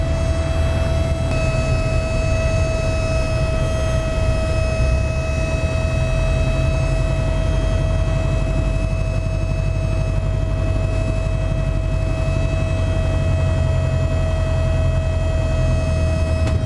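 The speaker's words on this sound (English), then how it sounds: "We'll try and do a wheel landing to a stop." Piper Super Cub light airplane on final approach for a wheel landing, its piston engine droning steadily and close throughout with a constant tonal hum and broadband rumble, no talk.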